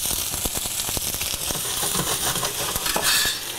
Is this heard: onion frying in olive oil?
yes